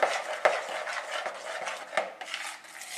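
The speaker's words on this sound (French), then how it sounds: "Donc là, vous mélangez bien." Spoon stirring raw vegan gazpacho in a bowl, a soft continuous rubbing and scraping with light clinks against the bowl, close and moderately quiet, no voice.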